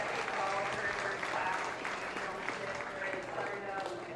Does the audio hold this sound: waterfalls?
no